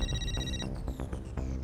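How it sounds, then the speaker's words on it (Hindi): A mobile phone rings for an incoming call with a bright repeating electronic ringtone, fairly loud and close, with no talking over it. "अरे बाप रे, ये उसी का फोन आ रहा है।"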